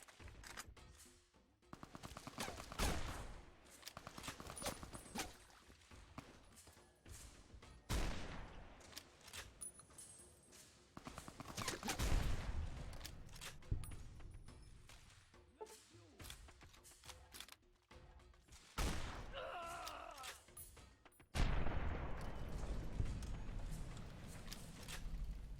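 Pistol gunfire in the video game Fallout New Vegas, scattered single shots and short bursts spread irregularly across the stretch, with pauses and a louder shot near the end, fairly faint overall.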